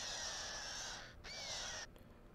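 Bloodwing, a bird in the Borderlands 2 video game, lets out a long high screeching call, then a shorter second cry after a brief break, fairly faint and alone.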